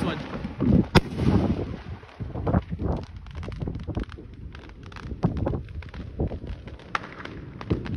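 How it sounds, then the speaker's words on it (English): Fourth of July fireworks explode outdoors as a series of booming thumps and crackles at irregular intervals, mixed with wind buffeting the microphone. "Today is the 4th of July and we're recording some fireworks."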